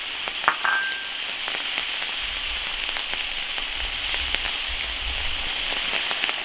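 Beef stir-fried in a wok with pickled chilies, sizzling and crackling steadily as the meat's moisture cooks off, with scattered sharp pops and occasional scraping over a continuous hiss.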